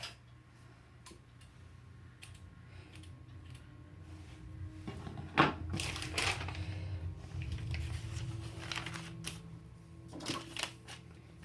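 Wax paper is torn off its roll against the cutter edge in a short crinkling rip, preceded by faint ticking handling sounds, quiet and close in a room.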